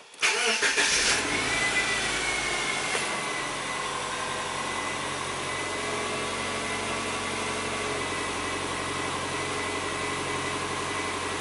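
A Subaru being checked for a lean fault and evap codes cranks and starts, then settles into a steady, close idle with a faint whining tone, running on alone for several seconds without talk.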